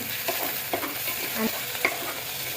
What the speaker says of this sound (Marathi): आता हे सगळं चांगलं परतून घेते